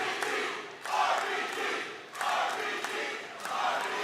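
A large arena crowd at a WWE title match roars and cheers in rising and falling surges, loud and sustained, swelling three times with scattered shouts.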